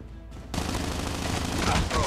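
Rapid turret gunfire in the mobile shooter game COD Mobile erupts suddenly and keeps going as a dense, loud burst of automatic shots.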